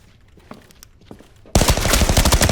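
Bursts of rapid automatic gunfire in a shooting video game. Faint shots and footsteps come first, then loud, dense fire breaks out abruptly and keeps rattling to the end.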